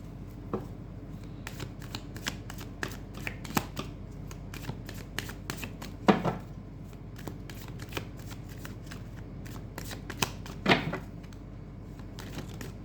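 Tarot cards being shuffled by hand, a steady stream of soft riffling flicks and taps with a couple of louder snaps, close and quiet with a faint room hum beneath.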